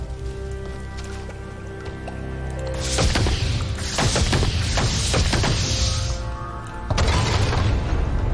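Rock being shot and shattered in Ori and the Blind Forest: a run of booming, crunchy impacts with splashy crackle, breaking out in bursts over a few seconds, then a final loud hit, set against a steady game background.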